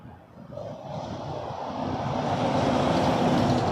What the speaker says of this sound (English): American Airlines, flight 2553 from Miami on an Airbus A319